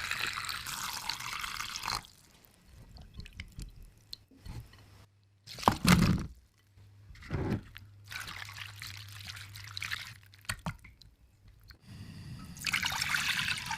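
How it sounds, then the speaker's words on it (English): Sliced potatoes washed under cold running water, heard as bursts of splashing and trickling with rinsing clatter, separated by quieter gaps and a loud splash midway. "Wash them with cold water."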